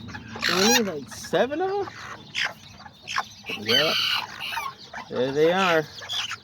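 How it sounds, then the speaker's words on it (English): A mother hen with her seven newly hatched chicks, loud clucking and squawking calls rising and falling in short repeated bursts close by, while a person briefly speaks between the calls. "She ended up hatching 7 baby chicks."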